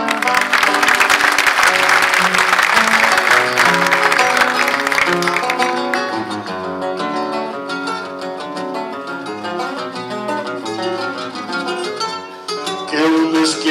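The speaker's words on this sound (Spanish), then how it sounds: "seus aplausos são primores para o nosso sentimento" An audience claps and cheers loudly after a payada verse at a gathering of improvising folk singers, the applause swelling then fading under guitar music that continues alone.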